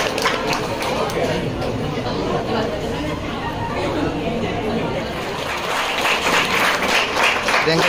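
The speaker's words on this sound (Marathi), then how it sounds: "टाळ्या वाजवलेल्या आहेत" Steady applause fills an engagement ceremony after the ring is exchanged, dense and continuous clapping with crowd chatter mixed in throughout, swelling slightly louder near the end.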